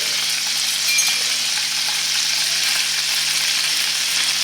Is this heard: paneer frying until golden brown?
yes